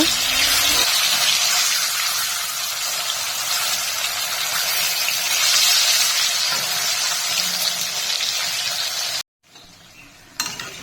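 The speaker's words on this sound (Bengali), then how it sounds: "মাছ এক পিট ভাজা হয়েছে উল্টে আরেক পিট ভালো করে ভেজে নেব" Fish in a wok sizzles on its second side after being turned, a loud, continuous, close hiss of frying oil that stays even for about nine seconds before a short gap and a quieter tail.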